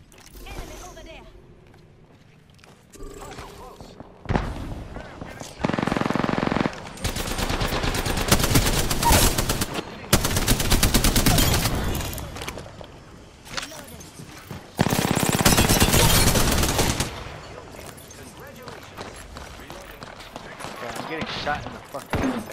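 Apex Legends gunfire on PS4 comes in sustained automatic bursts that roar for several seconds at a time, loud and close, between quieter gaps where a player talks.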